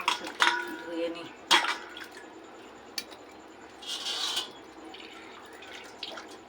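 A dirty spoon rinsed under running tap water at a kitchen sink, with a few sharp clinks of metal against the basin and a short burst of splashing flow, close and fairly quiet.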